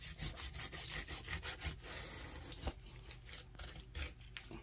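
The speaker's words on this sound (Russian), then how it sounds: "Отсюда нож проталкиваем сквозь. И по хребту идем вот так." A knife saws and scrapes through a largemouth bass along the spine, giving quiet rhythmic rasping strokes close by, repeated in uneven bursts.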